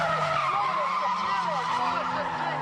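HPI drift cars at the drift nationals at Oran Park, tires squealing and skidding in long wavering screeches over a steady engine drone, loud and continuous through the whole stretch.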